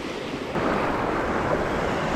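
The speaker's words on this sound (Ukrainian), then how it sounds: "Ну що ж, перший дотик до Середземного моря." Mediterranean Sea waves on a beach in Cyprus in early spring, a steady close wash of surf with some wind buffeting on the microphone, rising slightly after the first half second.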